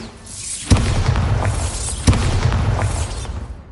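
Bombarda blasting spell from Hogwarts Legacy, two sharp booming explosions about a second and a half apart, each followed by rumbling debris and a rolling roar that fades, loud and close.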